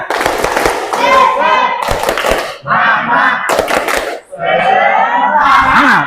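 An Indonesian school class performs a rhythmic spirit clap, with loud children's voices chanting and shouting over sharp, patterned clap bursts for several seconds in a lively classroom.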